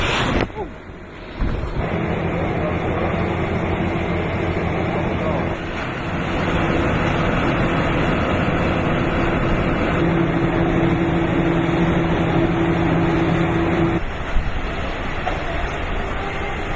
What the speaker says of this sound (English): the winds are really starting to pick up now, and it feels like there is a typhoon